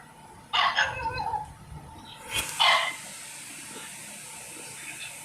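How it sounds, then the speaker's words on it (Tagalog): A dog barks inside a house, a few loud nearby barks in two short bursts, followed by quieter background noise. "ingay ng aso sa bahay."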